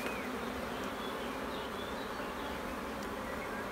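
Honeybees swarm and buzz steadily around an open hive while frames of capped brood are handled, a dense continuous drone close by with no talk.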